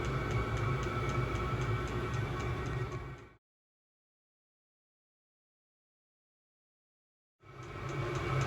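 A diesel heater runs inside a VW Crafter van, giving a steady droning rumble with a faint ticking pulse that cuts out abruptly for several seconds and then resumes.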